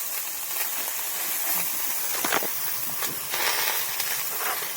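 Shrimp and bottle gourd being fried and stirred in a pan with salt: a steady broadband hiss and sizzle with a few scraping bursts from stirring, close up and moderately loud, without any talking.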